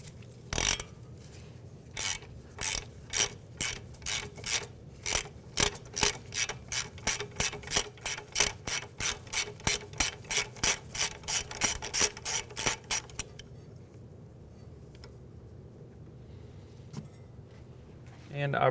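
Rapid ratchet clicks from a wrench loosening 12mm bolts on the strut bracket of a 2015-2019 Hyundai Sonata, close and crisp, running in quick even bursts for about thirteen seconds, then quiet.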